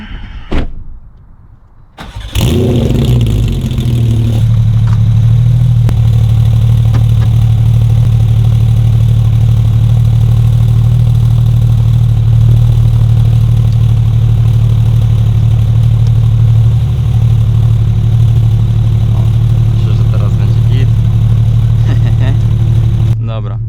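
A Porsche 911 992 GT3 starting up: a door-like clunk and brief quiet, then the engine catches with a loud flare and settles into a steady, close, deep idle that runs on unbroken.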